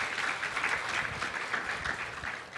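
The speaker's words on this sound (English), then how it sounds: "Just a round of applause for all of them." A room full of people applauding panel speakers at a Black maternal health event, a dense, even round of clapping sustained throughout the short stretch.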